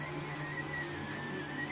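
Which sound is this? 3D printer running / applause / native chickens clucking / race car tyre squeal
3D printer running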